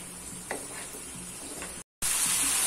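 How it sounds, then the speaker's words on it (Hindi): Chilli paneer fries in a pan and is stirred, giving a continuous close sizzle with soft scraping strokes, cut by a brief moment of silence before the hiss resumes. "चिली पनीर को हमें 5 मिनट अच्छे से भूनना है"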